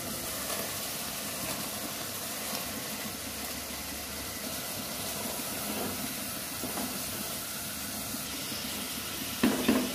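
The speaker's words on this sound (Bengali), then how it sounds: "মশলাটা কষাতে কষাতে যখন এটার উপরে তেল চলে আসছে, ঠিক এখন আমি মাংসটা অ্যাড করে দিচ্ছি।" Beef dropped into sizzling spice masala with oil, a steady hiss and crackle of frying meat in the pot, continuous with faint clatters and a louder stir near the end, no voices.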